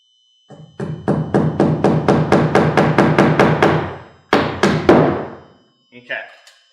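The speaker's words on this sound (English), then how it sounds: "you can just tap it just so it's going through the sheathing, and then you won't have too many bent nails" A hammer drives nails through roof sheathing during asphalt shingle installation, landing a steady run of about a dozen loud, evenly spaced taps, then a short pause and three more strikes before a faint rustle.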